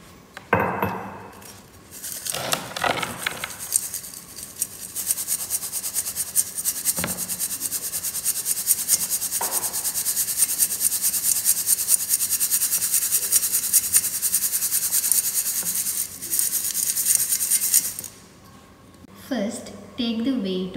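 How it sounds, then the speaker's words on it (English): Ground soil sample being shaken through a metal sieve in a lab, a steady gritty rasping and faint clinking that runs continuously for most of the clip before a few scattered handling knocks near the end. "Now we have to sieve the well grinded soil sample using the sieve."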